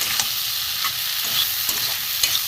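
Taro, potato and shrimp curry stir-fried in a pan, a loud steady sizzle close up, broken by the soft scrapes of a spatula turning the food.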